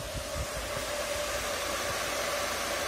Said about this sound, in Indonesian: kipas bakal terus menyala